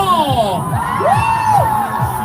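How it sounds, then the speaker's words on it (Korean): A group of people cheering and whooping at a hula-hoop team game, with rising and falling shouts, close and energetic, and children's voices among them. "자, 손머리로 함성."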